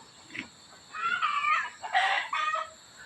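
Chickens cluck and call in short bursts, fairly close, with a few louder squawks toward the end and quiet gaps between.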